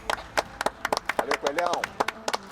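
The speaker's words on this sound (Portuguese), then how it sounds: "vamos juntos aqui bater palmas pro América" Clapping at a celebration of the América club's 112th anniversary, a quick uneven run of close hand claps, several people, mixed with a voice talking.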